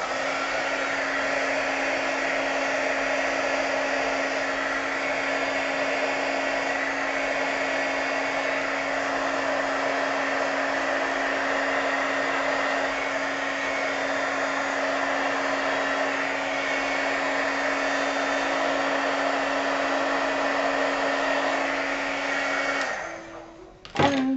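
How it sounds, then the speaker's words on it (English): A heat gun blows hot air over glitter on handmade fairy wings, a steady loud whooshing roar with a constant hum that runs unbroken for over twenty seconds before cutting off abruptly. "running the heat gun over the glitter to get the change in color"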